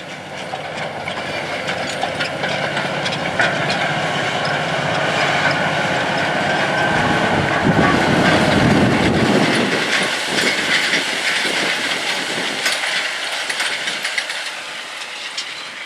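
Tractors disk winter wheat seed into a field at about 7.5 mph behind a Terra Gator 8400C airflow spreader broadcasting the seed. A loud, steady engine roar fills the whole stretch and swells toward the middle, with no voices.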